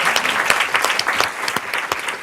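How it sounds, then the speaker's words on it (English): Audience applause for panelists at the launch of a women's democracy leadership event, a dense, steady clapping from a room of people that carries through the whole moment without pause. "another round of applause for the fabulous panelists"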